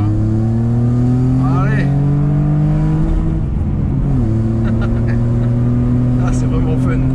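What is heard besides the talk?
Peugeot 406 V6 engine revving, Super Sprint exhaust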